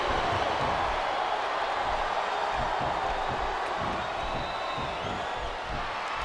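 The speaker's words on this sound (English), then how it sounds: "Listen to the crowd, JR." Steady, continuous arena crowd roar from the wrestling video game SmackDown vs. Raw 2007, filling the whole stretch at an even, loud level with no voices on top.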